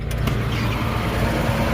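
Pickup truck driving across a field, a loud close engine rumble with steady low drone and faint rattles, continuous throughout with no talking.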